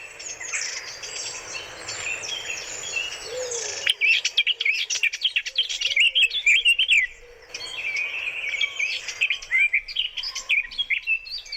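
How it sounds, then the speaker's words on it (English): A redwing sings on a farm, a run of high, squeaky twittering phrases that come in bursts, fairly close and clear over a soft bed of other distant birdsong. "But this is a redwing."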